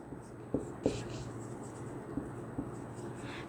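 Marker or chalk writing on a board during a classroom lesson: a few short taps and scratchy strokes spaced across a few seconds over a low steady room hum, faint and close.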